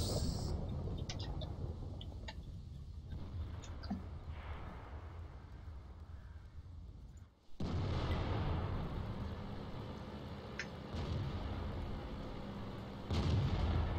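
Booming tank cannon blasts in a video game battle, heavy low thuds over a constant rumble, with one big sudden shot midway and another near the end.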